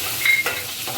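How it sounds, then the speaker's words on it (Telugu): Shahi jeera and spices frying in a hot pan, a steady soft sizzle with a brief stir or scrape partway through, close and alone. "షాజీరా ఇవన్నీ వేసేసుకుంటున్నానండి. ఫ్రై అవుతున్నాయండి."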